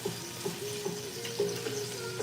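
Onion frying in a pan, a soft steady sizzle with faint clinks and stirring noises, quiet and close, with no talking.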